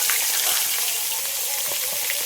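Large silver carp fish heads, rubbed with salt and turmeric, fry in hot mustard oil in a kadai, giving a steady, close hiss of sizzling with scattered small pops and crackles.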